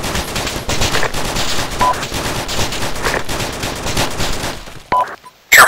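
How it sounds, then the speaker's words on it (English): Dense, continuous gunfire from the ARMA 2 video game, with rapid automatic bursts and overlapping shots at steady high loudness, then a brief drop to near silence before a few sharp final reports. "Taking fire!"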